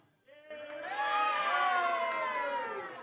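A live audience at a rugby league panel show roars and whoops in support of a contestant, the cheering swelling after a brief pause and staying loud and dense throughout.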